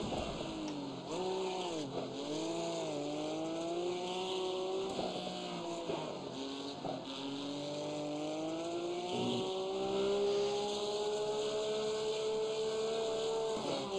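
A small Porsche race car screams through the iRacing video game, its engine whine rising and falling through gear changes and revs, with occasional tyre squeal, loud and continuous throughout.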